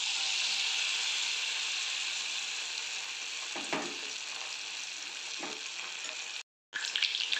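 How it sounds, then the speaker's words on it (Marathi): Paneer deep frying in very hot oil for chilli paneer, a dense bright sizzling hiss that holds steady and close, broken by a couple of soft knocks and a brief dropout near the end, no talk. "आणि आता आपण त्याला डीप फ्राय करणार आहोत. आपलं तेलही चांगलं कडकडीत तापतंय. मी आता तळायला सुरुवात करतोय."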